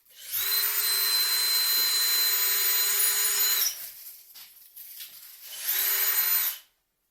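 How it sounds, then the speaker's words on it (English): A power drill pre-drilling a wall hole for an anchor whines steadily for a few seconds, stops briefly amid faint rustling, then spins up again for a short second burst. "see if I can pre-drill my hole for the anchor"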